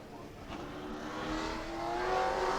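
A modified race car engine revs during a qualifying lap at New Smyrna, its pitch climbing steadily under sustained acceleration, loud and continuous with no talk over it.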